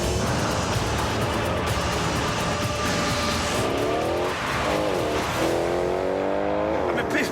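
A convertible sports car driving with its top down, with engine drone and rising revs that sweep up and down through gear changes, all over steady loud wind and road rush, and a voice talking over it.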